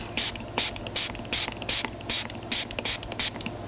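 Short, regular bursts of spray hiss out one after another, quick and close, sprayed onto a cone for a holiday honey bear, with a mechanical clicking rhythm and no talking.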